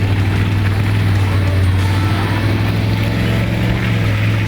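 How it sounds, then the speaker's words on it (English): A Toyota 79 Series truck with a chip and performance exhaust drones steadily, a deep, loud and constant engine rumble that runs the whole way through. "With the root chip and exhaust, Rocket's truck sounds as good as it looks"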